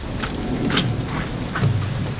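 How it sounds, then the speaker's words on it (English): Rain falls steadily in rural Nepal at the start of the monsoon. The hiss is dense and continuous, with a low rumble underneath and no speech. "We're going back as it started raining."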